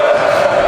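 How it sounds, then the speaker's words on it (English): Football crowd cheering back and forth at a high school game, Van College against Notre Dame, a steady dense roar of many voices filling the short moment with no break. "Now the crowd's starting to cheer back and forth here."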